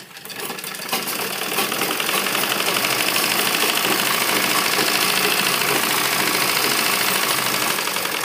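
A sewing machine stitches the hem of a salwar kurta sleeve for a school uniform, a loud continuous rapid whirring chatter that starts within the first second and runs steadily to the end.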